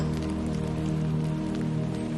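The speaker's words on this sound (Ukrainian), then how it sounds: "Дощ не припинився, але тепер не так чутно, коли краплі б'ються об дах." Rain patters steadily on a roof, a dense continuous hiss of drops over a low steady hum, with no voices.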